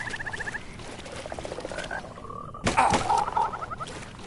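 Frogs croak in repeated short pulsing bursts in Mortal Shell, the trains of croaks broken by a sudden loud thump midway, with game ambience running underneath.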